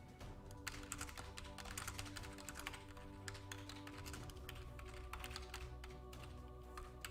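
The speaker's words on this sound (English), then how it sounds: "Look, I'm typing it now for you." Rapid keystrokes clatter on a computer keyboard in an irregular, continuous stream of light clicks over a low background hum.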